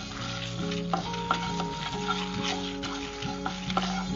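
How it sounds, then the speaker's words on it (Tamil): Red chillies and spices dry roasting in a pan, stirred steadily with a scraping, clattering rhythm and a light continuous crackle, close and moderately loud with no talk. "நான் நாலு மிளகா வத்தல் மட்டும் போடுறேன். எல்லாமே நல்ல கரகரன்னு வறுக்கணும்."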